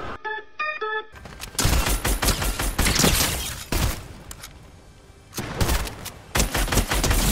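Fortnite gunshots: after a short chime of musical tones, loud, dense volleys of rapid fire break out, ease into scattered shots, then swell again into heavy firing.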